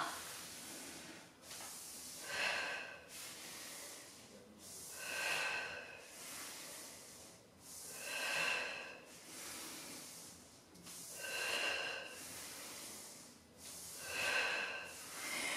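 Forceful breaths are pushed out during a core workout, a series of sharp hissing exhales that repeat roughly every three seconds and stand alone and close with no talking.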